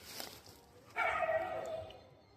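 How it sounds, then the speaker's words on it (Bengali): A dog in a jungle at night gives one faint, drawn-out bark or yelp at a distance, after a quiet start. "এখানে দেখতে পাচ্ছেন কুকুরগুলো"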